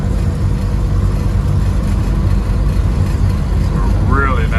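A 1955 Chevrolet Bel Air, an original car with an older single-stage repaint, is driven on the road, giving a loud, steady low engine and road rumble with some wind noise throughout.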